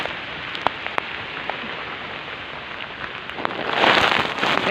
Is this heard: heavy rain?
yes